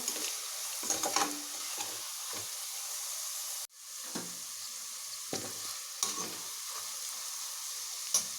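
Chili powder and spices frying in a pan for chicken biryani, a steady close sizzle broken by scraping stirs and brief clatters, with a sudden short dip partway through.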